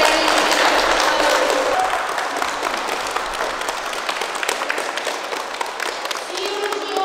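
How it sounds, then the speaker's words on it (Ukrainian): Audience applause welcoming a school team at a youth sports event, a sustained dense roll of clapping filling the hall, loud at first and easing slightly while staying steady to the end. "Всі ручні оплески лунають для команди Надвірнянського ліцею номер 2."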